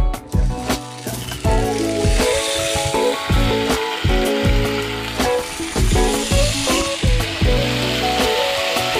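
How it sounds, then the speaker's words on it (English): Thick black drum fish fillets sizzle loudly in a hot pan nearby, with a constant crackle broken by thumps and clatter as the pieces are set down and moved, and no talking. "time to throw them on the pan"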